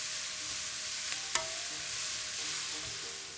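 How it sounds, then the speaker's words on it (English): Onions sauté in a pan after oxtail has been seared in it, giving a soft continuous sizzle. Occasional scrapes and clinks of stirring break through, with one sharper knock near the middle. "I am going to do the onions first, saute that here for just a moment"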